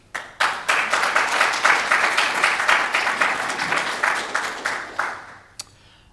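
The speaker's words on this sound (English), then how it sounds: "A round of applause." A conference audience gives a steady round of applause for a speaker, many hands clapping for about five seconds and fading out near the end, with no talk over it.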